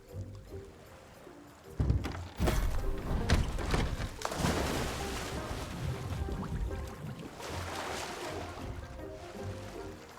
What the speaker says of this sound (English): What was that loud splashing sound?